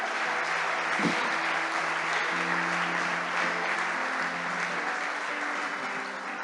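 A church congregation applauds during a sermon, a continuous wash of clapping that holds steady throughout with a faint tonal hum underneath.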